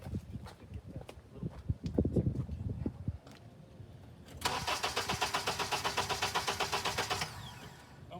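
A car engine cranks over during a battery terminal voltage drop test, a fast, steady rhythmic churning of the starter lasting about three seconds, loud and close, after some rattling handling noises.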